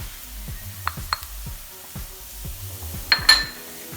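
Onions, garlic and a spice mix sautéing in a pan while being stirred, a low steady sizzle broken by scraping strokes and a few light metallic clinks of the utensil against the pan, close and with no talking.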